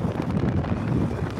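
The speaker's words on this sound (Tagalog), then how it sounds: "Medyo may kalakasan ng konting hangin at salubong sa atin yung hangin" Headwind blows against the microphone while riding a Suzuki Smash motorcycle downhill on Carmona Highway, a dense low rumble that stays fairly even for the whole moment.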